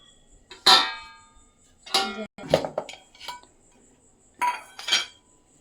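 A spoon clinks and scrapes against a pan while masala Maggi noodles are stirred, giving several sharp metallic taps and rattles in irregular bursts, close and fairly clear, with no talking.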